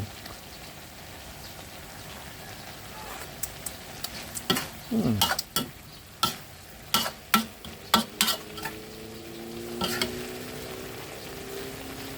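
Long beans and pork being stir-fried in a pan, with a soft background sizzle and a run of clear scraping and clacking stirs in the middle. The pan sounds close and no one speaks.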